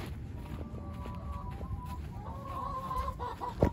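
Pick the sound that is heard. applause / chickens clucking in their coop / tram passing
chickens clucking in their coop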